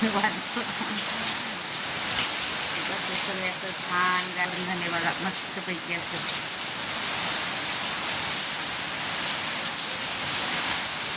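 Steady rain pours down in a dense, continuous hiss, with a person talking briefly over it.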